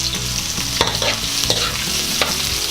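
Garlic and red onion sauté in hot oil in a pan for kalderetang baka, a steady close sizzle punctuated by a few sharp scrapes of a spatula stirring.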